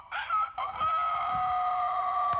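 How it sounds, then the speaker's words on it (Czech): A cartoon rooster crows loudly and alone, a long drawn-out cock-a-doodle-doo with a sustained wavering tone, followed by a brief sharp click near the end. "ten kohout kokrhá celé ráno"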